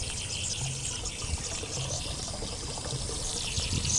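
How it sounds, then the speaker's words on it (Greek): Water running from a small street fountain in Thessaloniki, a soft continuous trickle and splash at close range, steady and fairly faint with faint street ambience and no talk. "Βρήκαμε εδώ βρυσούλα."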